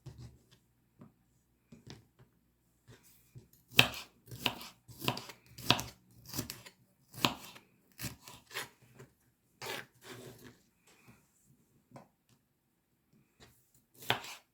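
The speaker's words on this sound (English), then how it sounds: "And cut it any way you want, in slices." A knife slicing an ingredient for a Thai-style green chicken curry on a board, a run of crisp, close chopping strokes in an uneven rhythm, busiest through the middle, with quiet pauses between.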